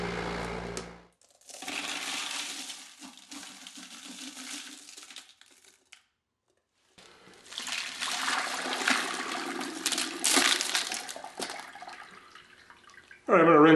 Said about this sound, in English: So I'm gonna rinse these off.